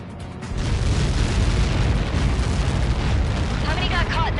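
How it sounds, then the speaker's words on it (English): A massive explosion in the air combat game Ace Combat 7: Skies Unknown, where a deep rumbling blast swells up and rolls on for several seconds, loud and sustained, with a radio voice speaking near the end. "How many got caught in that explosion?"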